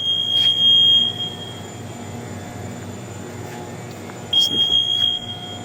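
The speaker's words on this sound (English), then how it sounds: "help me with this new alarm system" A loud, high electronic beeping door alarm sounds twice, once near the start and again near the end, over a low steady hum.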